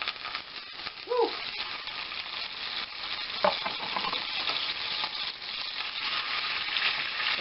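Ground lamb sizzles and fries steadily in a pan for shepherd's pie, a dense continuous hiss with a few scraping stirs of a utensil breaking up the meat, close and fairly loud throughout.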